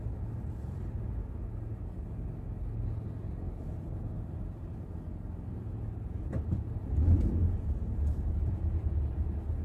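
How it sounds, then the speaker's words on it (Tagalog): Steady road traffic in the rain, a broad continuous rumble of passing vehicles with a heavier swell of a closer vehicle near the end, no talk. "Traffic mga boss."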